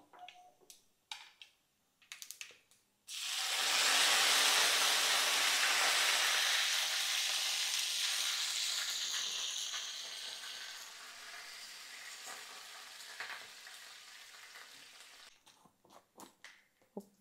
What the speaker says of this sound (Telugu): కొంచెం ఫ్రై అవుతున్నాయి.